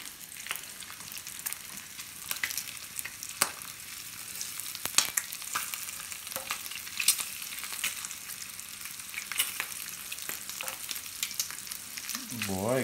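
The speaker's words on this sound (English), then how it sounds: "they got all this bacon in, waiting for them to all cooked up crispy and nice" Strips of bacon fry in a pan with a steady, close crackle and scattered sharp pops throughout, moderately quiet and with no talking.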